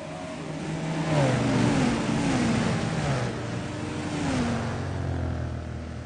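NASCAR stock cars race at Darlington, engines roaring loud and close, then pitch dropping as they sweep past, with more engines layered behind and no talk.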